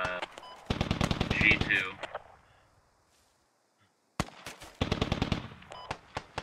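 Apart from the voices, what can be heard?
BTR vehicle gunfire in the video game Squad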